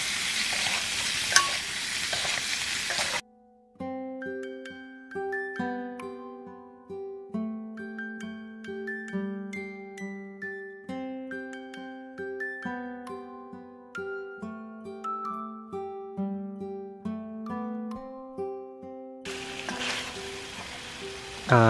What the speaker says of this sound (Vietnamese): Bây giờ mình xào cho cái lương nó săn lại hết luôn.